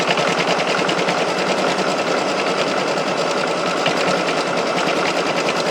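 A sewing machine stitches appliqué on a rhino quilt, running at a steady, continuous whir with a fast mechanical rhythm that stays close and even throughout, with no talking.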